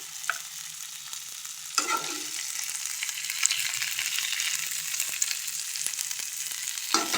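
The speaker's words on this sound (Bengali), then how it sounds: "চিংড়ি মাছ ভাজা হয়ে গেল। এবার চিংড়ি মাছটা" Shrimp sizzle steadily in a hot frying pan, with occasional sharp scrapes and clacks of a utensil stirring them, close and clear with no voices.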